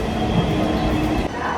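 A passenger train gives off a steady, loud rumble and rattle of rolling cars, heard close by from on board or beside the track, continuous throughout with a slight dip near the end.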